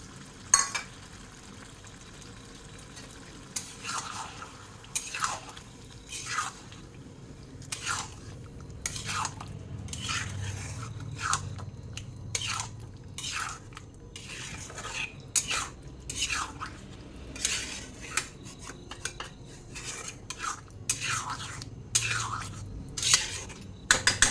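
A spoon or spatula scraping and stirring spice paste with grated tomato and cumin powder in a pan, a long run of regular metallic scrapes over a low, soft frying hiss, close and steady with no voices.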